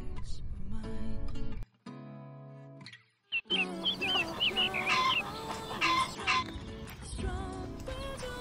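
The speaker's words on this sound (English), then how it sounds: "Chickens are running around, happy as can be around a field" Free range chickens clucking and calling on a Hampshire farm in Romsey, many birds close by making a busy run of clucks and squawks over a steady background bed, with a short quiet gap partway through.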